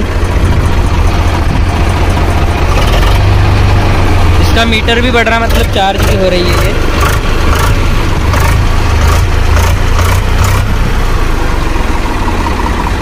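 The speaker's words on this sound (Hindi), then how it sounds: "इसका इंजन छोटा है ये बढ़िया आराम से उठ गई" A small tractor engine, just brought up by self-start, chugs steadily and loudly, with a voice talking over it throughout.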